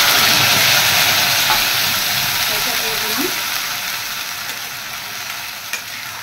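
Onion and garlic paste hits very hot oil for an egg rezala, a loud dense sizzle at first that slowly settles into a softer steady frying hiss, close and without talk.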